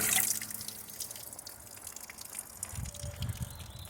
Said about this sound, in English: And as you can tell, we're pumping water.